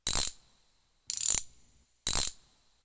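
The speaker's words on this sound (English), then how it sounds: "Let's end this with some ticks, though. I'll show you some ticks. I like a lot of these, socket clock sounds." Three evenly spaced mechanical clock-like ticks from a horror sample library, each a short bright ratcheting click roughly a second apart, close and dry with silence between.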